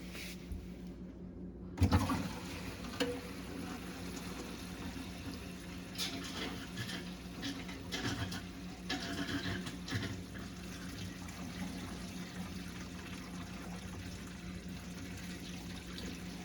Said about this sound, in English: all the water is about drained out